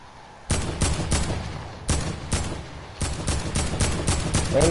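Pistol gunfire in a video game: loud, sharp shots fired in quick clusters of two or three, separated by short pauses, with no talking.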